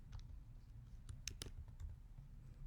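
A few scattered keypresses on a computer keyboard while entering list commands in Mathematica, soft and close, with sparse irregular clicks over a low steady room hum and no talking.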